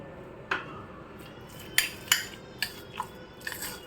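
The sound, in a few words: spoon mixing oregano into a mixture in a bowl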